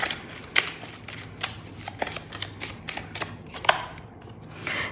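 Tarot cards being shuffled by hand, a series of crisp riffles and snapping flicks at an irregular rhythm, close and fairly loud with no voice.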